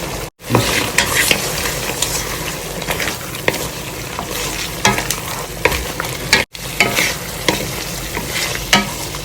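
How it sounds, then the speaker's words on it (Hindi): Mutton frying in a pan with red chili, turmeric, cumin and coriander is stirred vigorously, a continuous close sizzle broken by repeated scraping strokes of a spoon against the pan. "अब इसको अच्छे से मिक्स करेंगे।"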